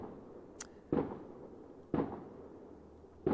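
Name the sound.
fireworks going off in the distance on Bonfire Night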